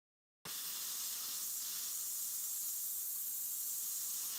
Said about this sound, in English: I'm gonna spray most of it into the black.